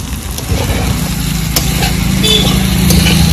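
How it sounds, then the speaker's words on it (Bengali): Small fried fish go into raw tomatoes frying in a pan, setting off a steady close sizzle over a low humming drone that grows slightly louder as it continues. "এবার ভেজে রাখা মাছগুলো দিয়ে দেব।"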